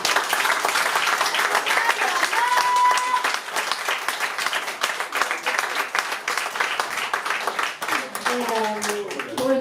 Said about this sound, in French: Je vous demande d'applaudir ma fille.